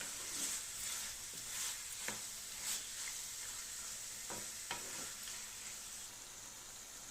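Chicken pieces with ginger garlic paste, oil, green chillies and onion are worked together in a pan. A faint, steady sizzle continues throughout, with occasional soft stirring knocks, quiet and without talk.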